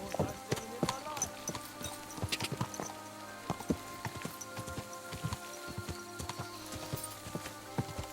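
Horse hooves clop steadily on the ground in the medieval video game Kingdom Come: Deliverance 2, a quick, uneven patter of sharp knocks alongside faint rain-like ambience and occasional talk.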